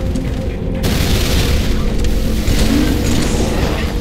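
Battle rifle fire in the Halo 3 video game, heard as a loud, dense barrage of booming shots and blasts that runs almost continuously, with no pauses, over a constant roar of game action.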